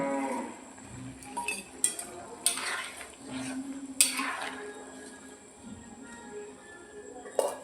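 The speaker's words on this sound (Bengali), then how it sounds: "আমি ভেজে রাখা মাছ দিয়ে দিচ্ছি কাঁচা লঙ্কা" Pre-fried ritha fish and green chillies go into a pan of simmering taro curry and are stirred. A soft sizzle runs underneath, broken by intermittent spoon scrapes and clatters.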